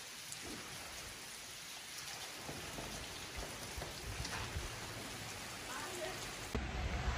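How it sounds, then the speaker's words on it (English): Rain falls steadily on an overcast day in Germany, a dense, even hiss of drops on surfaces that stays constant throughout, with a faint voice speaking under it. "Nice rainy day."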